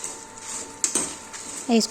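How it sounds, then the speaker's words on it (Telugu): Curry leaf powder ingredients with sesame seeds being stirred in a pan, a few metal clinks and scrapes of the spoon against the pan, close and moderately loud, ending in a brief sizzle-like rattle. "ఈ విధంగా బాగా కలుపుకోండి."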